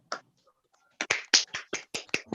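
A handful of separate, crisp claps come through an online Toastmasters meeting call, starting with one lone clap and then a quicker uneven run of close, dry hand claps after a short silence.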